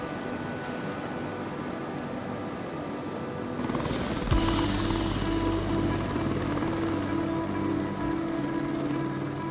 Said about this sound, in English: just that heli ride up there was so stunning